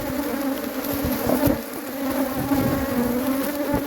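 Honey bees hum steadily at an open hive during a strong bluegum flow as it is checked for splitting, a dense, close, continuous buzz with no talk.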